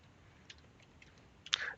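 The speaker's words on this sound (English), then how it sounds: "So I'm just typing Control U," A few soft, faint computer keyboard clicks, then one sharper, louder keystroke near the end, isolated against quiet room tone with no talking.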